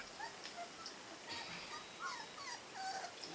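A small, young all-white puppy, one of a litter, lets out a few faint high-pitched whimpers and yips, soft and scattered over a quiet background.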